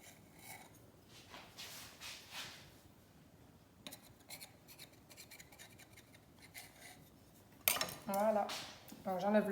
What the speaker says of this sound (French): Là, je vais terminer au couteau.